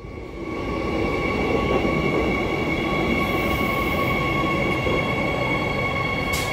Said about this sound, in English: This is the last train, also not blocking it,